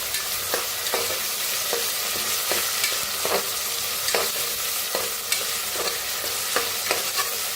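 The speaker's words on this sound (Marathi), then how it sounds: "आता लसूण अद्रक बारीक करून घेतलेली हिरवी मिरची वाटण टाकूया ह्याच्यात. छान असं भाजून घेऊया." Garlic, ginger and green chili paste frying in a pan for masala rice, a steady bright sizzle with regular scraping stirs of a spoon, close and alone with no talk.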